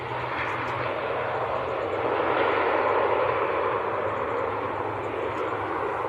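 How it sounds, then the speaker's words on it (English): A Loganair aircraft arriving at Manchester Airport from the Isle of Man, a steady engine drone that rises slightly mid-pass, moderately near, with no talk over it. "Loganair from the Isle of Man, very short flight."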